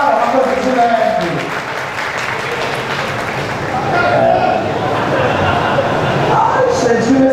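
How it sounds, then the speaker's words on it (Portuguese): A nightclub audience at a drag comedy matinee show claps steadily, dense applause filling the room at moderate level with crowd noise, continuing unbroken for several seconds. "Aplaude agora."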